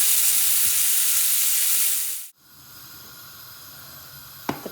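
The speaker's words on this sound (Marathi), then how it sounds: "साधारण 2 ते 3 मिनिटं दोन्ही साइडून फिश आपल्याला फ्राय करून घ्यायचं आहे" Fish frying in a pan of oil for a coconut milk fish curry, a loud steady sizzle that cuts off abruptly midway, leaving a quieter hiss with a brief clatter near the end.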